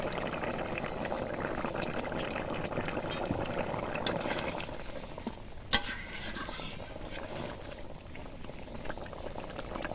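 Fish curry with elephant foot yam bubbling in a pan, a steady close simmering burble throughout, with a sharp utensil clink near the middle and no voices.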